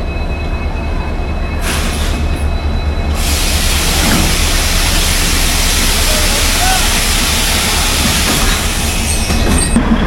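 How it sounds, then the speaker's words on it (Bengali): The Darjeeling Himalayan toy train, a two-coach timber special hauled by an NDM6 diesel locomotive, rumbles loudly and steadily nearby. A dense, continuous roar of running gear and engine noise lasts throughout. "আর এই হলো NDN 6 লোকোমোটিভ, ডিজেল লোকোমোটিভ, যেটা আজকে আমাদের নিয়ে যাবে আমাদের এই সফরে"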